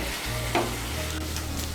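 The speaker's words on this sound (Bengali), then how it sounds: "এই দেখুন চিকেনের পিসগুলো আমি ভেজে নিয়েছি" Chicken pieces fry in oil in a kadai, giving a steady close sizzle with a brief louder stir midway and no voices.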